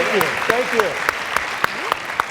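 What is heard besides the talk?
round of applause for Do Good alums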